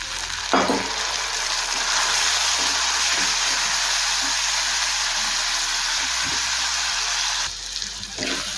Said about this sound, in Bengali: অল্প করে গরম জল দিয়ে মশলাটা একটু কষিয়ে নেব